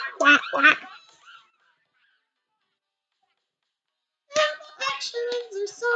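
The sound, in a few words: voice imitating a duck quacking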